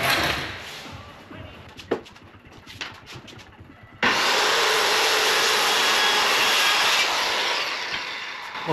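A power saw cuts wooden 2x4 boards for a storage tote rack. A few quiet handling clicks come first, then a loud, sustained rough cutting roar starts abruptly and fades slightly near the end.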